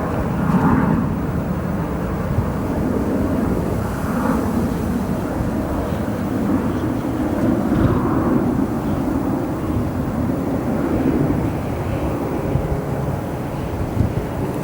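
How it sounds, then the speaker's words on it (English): An Airbus A380 taxis after landing on runway 28 Center at O'Hare airport at night, heard as a steady broad engine roar mixed with wind noise, with no talking. "Got the A380 turning here after just landing on 28 center."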